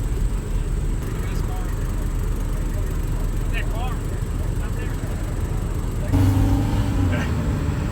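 A Porsche 911 with a Fister D exhaust is heard from inside the car as steady road rumble, then a louder, deeper exhaust note swells in the last two seconds as it accelerates.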